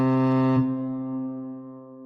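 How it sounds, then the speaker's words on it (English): A ship's horn sounds one deep, tonal blast that fades away over two seconds, loud and close with no other sound around it. "This is a ship."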